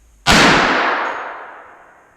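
A single loud .243 rifle shot from a Savage Arms Model 2 cracks sharply outdoors and then rolls away in a long fading echo.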